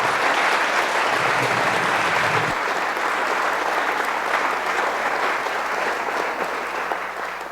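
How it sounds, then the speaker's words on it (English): A large crowd at an all-candidates federal election debate claps steadily and loudly, a dense even wash of applause that holds for several seconds before easing slightly. "Can we give a round of applause for all of our candidates here,"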